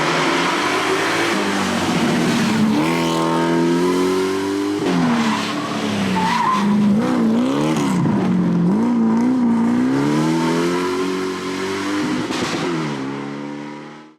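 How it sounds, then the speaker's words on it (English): A Mercedes R107 coupe with an M117 V8, rallying on dirt roads, drones loud and close with a steady engine note that rises and falls as the revs change, with no talking. "Suddenly out of the corner you see this luxury V8 coupe just soaring past on the dirt roads."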